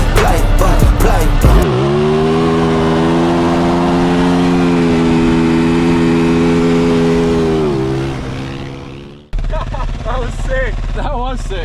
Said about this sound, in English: burnout into a wheelie